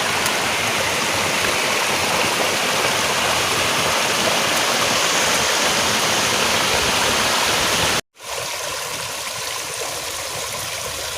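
A river flows loudly past bamboo twigs in a dense, steady rush of water close by, broken by a brief dropout before continuing slightly softer.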